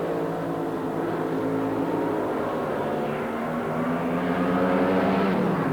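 A 1976 AA nitro-burning dragster race run roars continuously at high volume, a dense, sustained engine blast that holds steady, then climbs slightly in pitch near the end.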